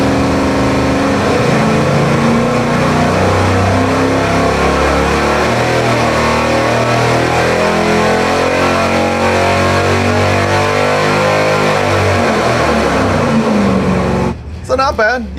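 Engine on a dyno run with a NOS Sniper nitrous kit jetted for nitrous and fuel, a loud, sustained roar that climbs steadily in pitch through the pull, then cuts off abruptly near the end.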